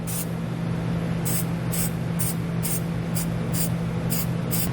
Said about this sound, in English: I'm actually just going to spray paint it black